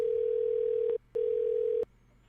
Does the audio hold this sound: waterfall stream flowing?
no